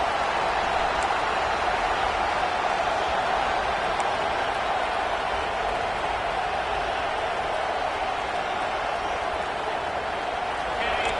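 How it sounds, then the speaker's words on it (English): Football stadium crowd noise as the home fans rise during a red zone defensive stand, a steady, dense roar of many voices sustained at even loudness throughout without breaks. "And the crowd coming to life here, trying to help this defense down in the red zone."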